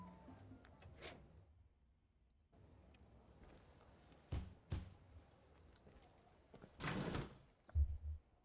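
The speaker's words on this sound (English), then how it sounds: "It's a hidden door?" A hidden door in the video game Far Cry 6 slides open with scraping, clunking bursts among quiet ambient game sounds and brief thuds.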